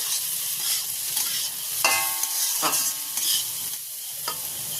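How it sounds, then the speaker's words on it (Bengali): Mixed vegetables frying in a pan for fried rice, stirred with a spatula: a steady close sizzle with repeated scraping strokes against the pan at an unhurried rhythm, no talking. "চাপাটা খুলছি আবারও ভালো করে নাড়াচাড়া করে নিচ্ছি"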